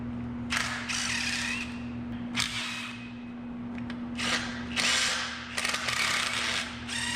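Ratchet loosening front suspension bolts on a Datsun 240Z, heard as bursts of rapid metallic clicking separated by short pauses, close and fairly loud over a steady low hum.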